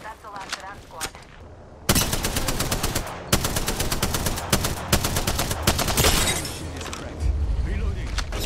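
Rapid automatic gunfire rakes the player in Apex Legends, dense bursts of loud shots with brief gaps and reload clicks, close and continuous for several seconds.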